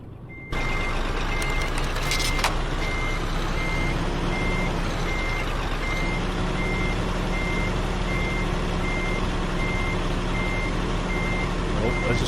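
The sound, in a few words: truck reversing beeps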